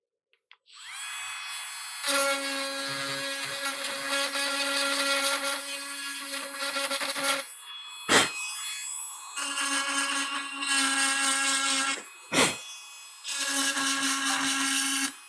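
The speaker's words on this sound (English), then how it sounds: "Back to the grinder." Small electric grinder whirring steadily at high speed while cleaning parts for a Commodore Plus 4 computer, up close, running in long bursts that briefly cut out and restart, with a couple of knocks between runs.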